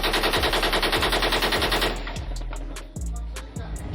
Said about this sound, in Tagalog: A Korean Coast Guard crew fired its onboard machine gun earlier this afternoon in a warning to a Chinese fishing boat